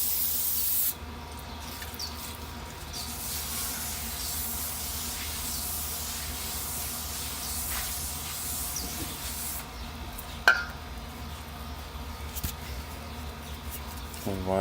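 Aerosol brake cleaner sprayed onto a brake disc during front pad and rotor replacement on a 2008-2012 Honda Accord, a long steady hiss close by that stops briefly, resumes, and ends with a faint clank.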